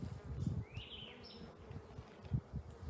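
Honeybees fanning at a hive entrance on a hot day make a low, steady buzz close by, with soft fluttering pulses and a brief higher whine of a passing bee.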